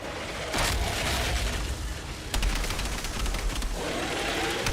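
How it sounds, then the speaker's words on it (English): Grenade explosion in the video game Outriders: loud, sustained booming and rumbling with a sharp blast partway through, set in dense continuous battle noise. "Boom! Man, I love that grenade move."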